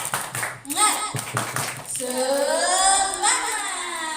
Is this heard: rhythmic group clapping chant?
yes